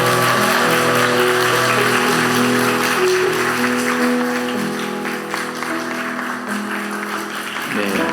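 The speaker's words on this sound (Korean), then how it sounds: "축복의 박수." A church congregation gives a round of blessing applause, a broad, continuous clapping that stays steady for several seconds over sustained musical tones, easing slightly toward the end.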